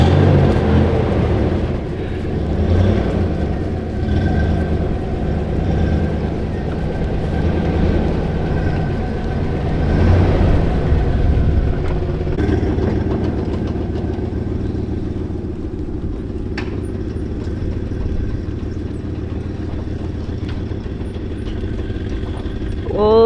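A loud truck engine drones steadily and close by in an outdoor setting, with its level rising and falling slightly through the run and a voice speaking briefly over it.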